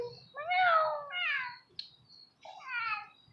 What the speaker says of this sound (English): All cats that are calico kind of look like McGonagall to me.